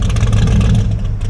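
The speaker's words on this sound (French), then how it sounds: "je vous filme là le Gran Torino break là, qui est en train de se garer là" A Ford Gran Torino station wagon's engine rumbles low and steady nearby, idling with a slight rev as it slowly parks at a car gathering.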